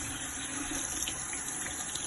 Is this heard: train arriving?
no